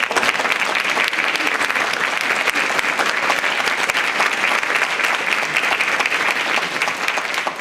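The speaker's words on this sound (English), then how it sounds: "could you please stand up so we can applaud you?" A college convocation audience gives a work group a loud, sustained round of dense applause that stays steady from start to finish.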